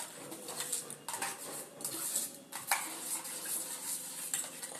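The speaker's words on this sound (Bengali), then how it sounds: "একটা চামচ দিয়ে মিক্সড করে নিলাম" A spoon mixes a spice paste of mustard oil and yogurt in a bowl, making quick, steady clinking and scraping strokes close by, with a faint background hum and occasional bird calls.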